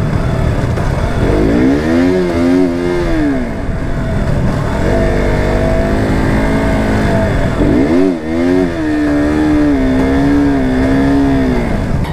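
Modified KTM Duke 390 motorcycle with worn clutch plates, engine revved hard in two long rising-and-falling sweeps to high rpm, loud and close, with no speech.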